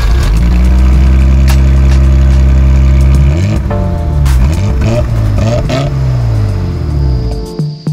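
A BMW E34 with a 2.5 engine runs close by, a steady loud idle that then revs up and settles, with the engine tone shifting through the last seconds at a Baku car market.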